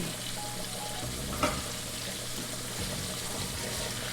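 Cube steak frying in a pan gives off a steady, close sizzle that holds even throughout, with one small clink partway through and no talking.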